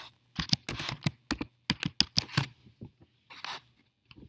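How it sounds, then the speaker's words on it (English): Someone types on a computer keyboard at close range, with quick irregular bursts of crisp key clicks, a few short pauses between runs and no voices. "press enter with your keyboard, and then you can type"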